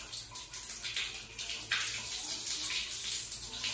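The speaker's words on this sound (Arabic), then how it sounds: "ايه افتح المي الحار" Hot water running from a bathroom tap into a tub, a steady broadband rush of flow close by, continuous and fairly quiet with slight surges, no talking over it.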